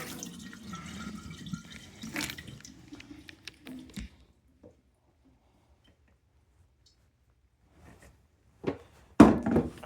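Water drains and trickles out of a Zero Water filter jug, a soft gurgling flow that fades into near silence, followed by a few faint drips and then a louder clunk and splash near the end.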